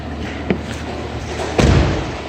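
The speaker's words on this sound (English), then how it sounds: "Open up the trunk." A 2017 Nissan Altima SV trunk opens with a soft thump, then a louder thud and rattle of the lid about a second later. Both are close by, with quiet room tone between them.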